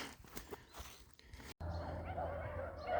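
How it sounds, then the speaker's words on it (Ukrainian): Dogs barking and howling near a house outside a forest during autumn mushroom foraging, a sustained chorus in the second half following rustling outdoor ambience, moderately faint. "Чуєте, мої песики співають, мене почули."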